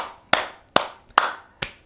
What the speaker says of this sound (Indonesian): Taruh dulu HP-nya, kita tepuk tangan.